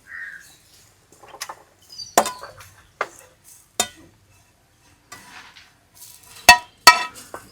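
Roasted coconut is tipped out of a pan, with a sequence of sharp clinks and scrapes of metal utensil against cookware, some louder than others, close by with quiet gaps between them.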